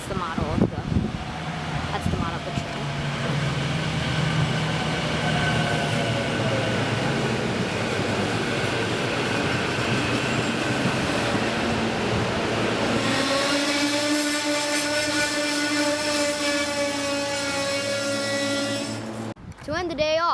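SEPTA Silverliner 5 electric commuter train rolling loudly past Croydon station on a rainy evening, a steady rumbling roar with rising tonal whine and squealing harmonics near the end before it fades out.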